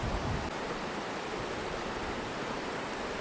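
Tumpak Sewu waterfall in East Java roars as a continuous, even wash of falling water, steady and unbroken, heard from nearby with no voices.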